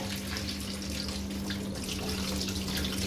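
Running tap water splashing steadily over prawns being washed in a sink, an even close rush of water with a low hum beneath and no voices.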